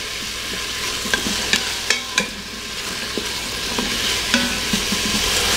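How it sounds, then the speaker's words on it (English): Onions softening in a pot for butternut squash soup, with a steady close sizzle and repeated sharp taps and scrapes of a spoon stirring against the pot. "The onions have sauteed for about 3 minutes, and they're nice and soft."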